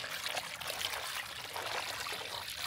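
Running water pours and splashes steadily over raw beef pieces being rinsed before cooking a beef bhuna, a continuous close trickle with no talking.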